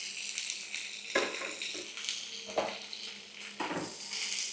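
Capsicum, slit green chillies and tomato stirred in hot oil in a pan, a steady sizzle broken by scraping spoon strokes against the metal every second or so, close and clear.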